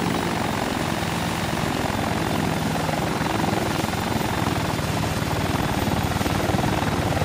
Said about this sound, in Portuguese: Vamos ver dos helicópteros.